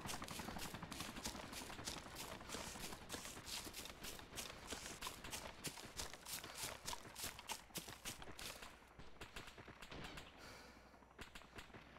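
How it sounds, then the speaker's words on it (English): Rapid distant gunfire in a Wasteland shooter game, a long string of sharp cracks in quick bursts that thin out toward the end, fairly faint. "I think he might be shooting at me."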